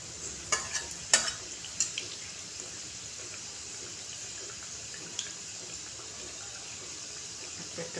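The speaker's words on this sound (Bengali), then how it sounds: "একটা একটা করে সিঙাড়া আমি তেলের কড়ায় দিয়ে দিচ্ছি" Samosas frying one by one in hot oil in a wok, a steady soft sizzle with a few sharp crackles and pops early on, then a quieter even hiss.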